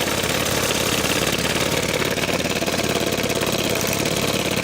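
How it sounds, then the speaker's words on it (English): A 1920s vintage steam boat engine with a cast bronze base, stanchion arm and brass piston runs after a light service, giving a loud, close, continuous rapid mechanical chuffing and knocking at an even pace. "And we'll run the engine once again."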